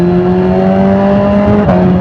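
A BMW S1000RR sport motorcycle fitted with an aftermarket exhaust revs loud and close, a steady harsh engine tone holding before a quick blip of throttle near the end.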